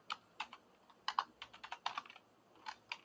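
Keys clatter on a computer keyboard in quick, uneven bursts of close taps with short pauses between them, alone and fairly quiet.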